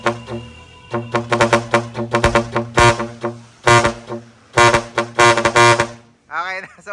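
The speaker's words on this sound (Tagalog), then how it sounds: "Okay na solid yung tunog ng busina na yan." Loud vehicle horn blasts in repeated short bursts and a few longer holds, with a brief voice at the end.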